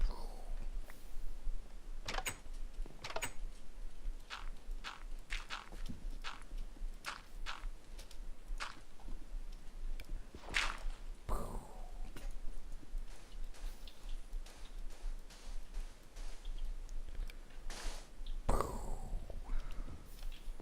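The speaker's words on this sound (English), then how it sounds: "That was the sound of me hammering stuff" Hammering with an iron hammer in the Minecraft Sky Factory game gives a series of sharp, irregular clicking taps over a quiet, faint background hum, spaced unevenly through the clip with no speech.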